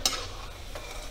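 Alu vadi pieces frying in a shallow layer of oil in a kadhai, a soft steady sizzle with a brief stir or scrape at the start, close and quiet, no talking.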